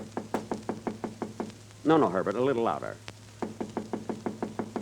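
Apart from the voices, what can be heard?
knocking on a door, radio sound effect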